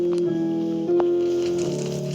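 Opening four notes of a Gregorian funeral chant played as sustained tones, a short steady phrase whose pitch steps shift a few times, clear and alone.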